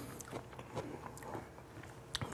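Crunchy battered onion rings are bitten and chewed close to the mic, a quiet series of crisp crackles and crunches in an irregular rhythm.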